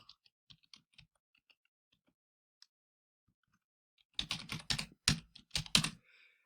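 Computer keyboard typing: a burst of quick, close key clicks in an irregular rhythm after a near-silent stretch with a few isolated faint taps.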